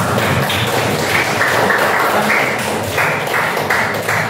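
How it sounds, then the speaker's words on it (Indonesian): Clapping from a group honoring top-scoring students in a classroom, a close, loud stretch of hand claps with some tapping and thumps, continuous throughout. "Kasih tepuk tangan."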